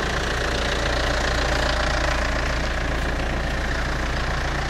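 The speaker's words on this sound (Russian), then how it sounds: "А это что за трактор?" A tractor engine runs close by with a loud, steady, rough idle, a continuous knocking rumble holding unchanged from start to end without speech.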